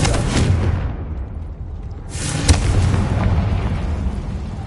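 Spell blasts in the Hogwarts Legacy video game go off as loud booming explosions, a broad roar in the first second, then another sharp burst near the middle with a long rumbling tail.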